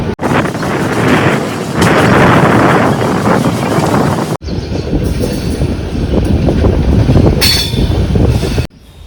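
Passenger train on the Ratnagiri to Vasai line pulling out of Panvel station, a loud steady rumble of wheels and carriage with wind buffeting, continuous and close throughout, no voices.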